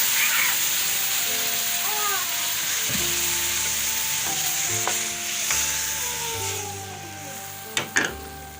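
A steady sizzle of frying as pink lentils are added to a hot tempering in the pan, with clinks and scraping of a utensil stirring, and a couple of sharp knocks near the end.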